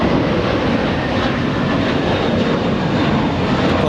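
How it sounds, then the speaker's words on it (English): A JetBlue Airbus A321 takes off at Los Angeles International Airport, its jet engines producing a loud, steady, unbroken roar that stays at full strength throughout. "Lifting off an Airbus"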